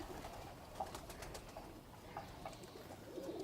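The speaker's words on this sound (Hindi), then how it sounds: "ये हमारे फिरोजपुरी कबूतर" Ferozpuri pigeons give faint, low coos and soft rustles in a quiet setting, with scattered brief calls and no talking.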